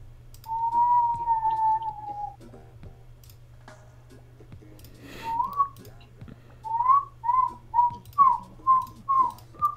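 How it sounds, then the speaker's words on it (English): A person whistles in a quiet room over a low steady hum: one long sustained note first, then a few brief chirps, then a run of short rhythmic whistled notes near the end. "Nice whistling."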